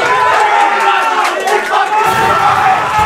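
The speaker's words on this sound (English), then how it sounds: "This crowd is going wild for their boy." A crowd at a live esports fighting-game match cheers wildly and yells without letup. Dense roaring voices fill the whole stretch, loud and a little distant.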